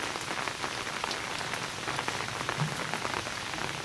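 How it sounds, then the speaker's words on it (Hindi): Steady rain falling on a hard surface in Rawalpindi, with a dense patter of drops at an even, moderate level and no voices. "बारिश है कि रुकने का नाम ही नहीं ले रही"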